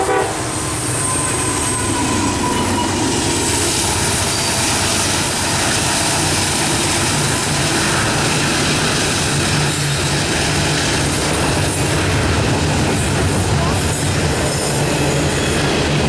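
A freight train with engines passes on Horseshoe Curve, making a loud, continuous rumble of rolling cars, with a train horn and squealing wheels carried over the steady roar.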